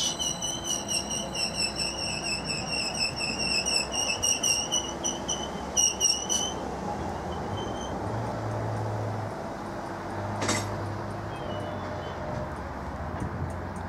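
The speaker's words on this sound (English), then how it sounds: "I've got 745006 now departing, working the 1430 service to London Liverpool Street" A Greater Anglia Class 745 electric train departs a station on a London Liverpool Street service. Rapid high warning beeps repeat at first, then a low, steady rumble and hum build as it pulls away, with a faint whistle-like tone midway.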